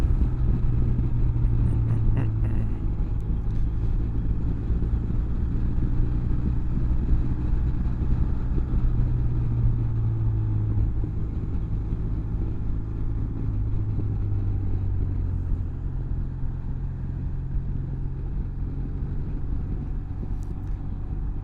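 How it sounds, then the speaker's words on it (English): A 2016 BMW R1200R motorcycle engine drones steadily while riding on a road, a continuous low rumble with slight shifts in pitch as it engine-brakes, close and loud with wind noise throughout. "Got some nice engine braking there."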